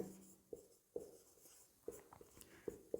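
Pen strokes writing a maths equation by hand, several short scratchy taps and strokes at irregular intervals, close and fairly faint, with no talking.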